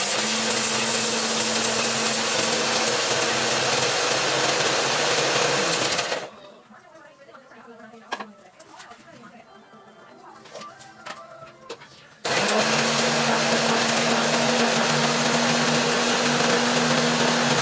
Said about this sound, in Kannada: ಅದನ್ನ ಮಿಕ್ಸರ್ ಹಾಕೊಂಡ್ರಿ ಬರೀ ಚಲೋ.